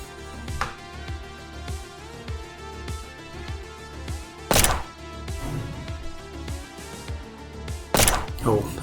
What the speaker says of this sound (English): that was quite a big hit on the turret